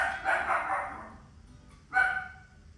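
A dog barks in the background, two short bursts: a longer one near the start and a sharper one near the end, medium distance, with quiet gaps between.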